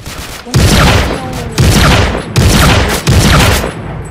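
Loud, close gunfire from the video game Ace of Spades comes in four heavy bursts at roughly even intervals, each a dense crackling volley, with no talking.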